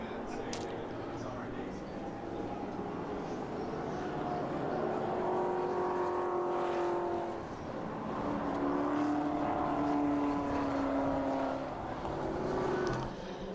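V8 race cars circulate at Silverstone, their engine drone heard from a distance, rising and falling as cars pass, under steady commentary.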